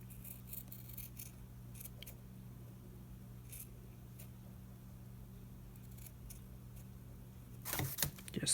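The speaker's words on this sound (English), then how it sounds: "you can just open it up and just give it a little bit of a trim" Scissors make a few quiet snips trimming paper for a lap book over a steady low room hum, followed by a louder rustle of paper handling at the end.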